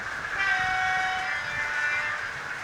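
A model railway train, with class 50 locomotives on the layout, runs past close by, giving a steady mechanical rumble with sustained horn-like tones and no voices.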